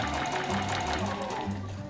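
A sewing machine stitches a seam on a simple A4 flat tote bag, giving a steady, close mechanical whir with a rapid rhythmic needle beat while a voice talks over it.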